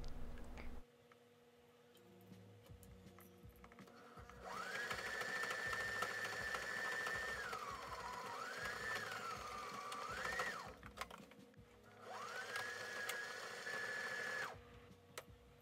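A sewing machine stitches a T-shirt with black thread in three runs, a close, steady motor whir with a rising and falling tone, separated by quiet ticking pauses, with no voice.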